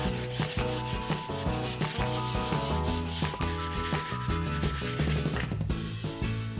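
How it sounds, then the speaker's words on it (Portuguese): Coarse sandpaper rubbing across a sticker album cover in steady, rapid back-and-forth strokes, close and loud, continuing without pause and with no talking. "Eu vou lixar primeiro com essa lixa mais grossinha e depois com a mais fina pra igualar e uniformizar tudo."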